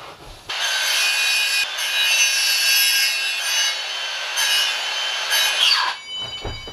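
A circular or table saw trims the edge of a wooden board, its high whining cut running loud and steady for about five seconds, then winding down.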